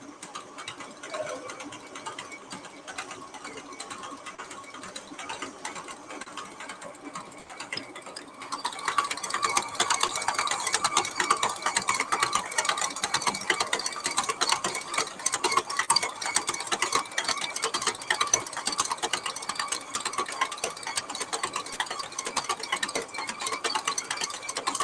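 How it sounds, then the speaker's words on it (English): A stand mixer kneads cinnamon bread dough on medium, a steady mechanical whir and clatter that starts partway in and then runs continuously, close and even. "So we're going to mix this on medium for about 2 to 3 minutes until it pulls away from the sides"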